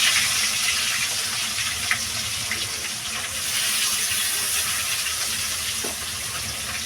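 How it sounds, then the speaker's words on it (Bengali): Two pieces of fish frying in oil in a home kitchen, giving a steady, hissing, watery sizzle close by with no talk. "এই দুই পিস মাছ আর ভাজতে বাকি আছে এই দুই পিস ভেজে নেব"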